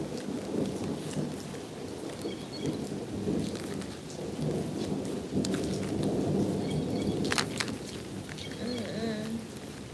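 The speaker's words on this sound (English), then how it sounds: "I like this rain too" Steady rainfall patters across the whole stretch, with a few low thunder-like rumbles and faint voice murmurs underneath the even, continuous wash of drops.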